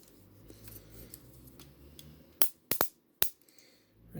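Joytoy FEAR Assault Mecha 1:18 scale action figure joint ratchets with four crisp, loud clicks in quick succession, close up over faint background noise.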